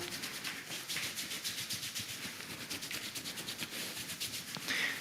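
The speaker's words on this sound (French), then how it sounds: "On frotte les genoux pour réchauffer les articulations" Hands rub briskly back and forth over knees during a children's kung fu warm-up, a quick rhythmic swishing of palms on fabric, soft and repeated throughout.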